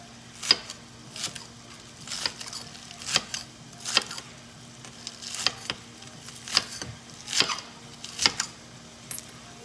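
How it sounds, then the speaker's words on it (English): A knife chops green onions on a cutting board in a home kitchen, with about a dozen crisp, separate taps in an uneven rhythm, close and moderately loud over a steady low hum. "Let me use this cutting board. We're going to cut up a couple of those."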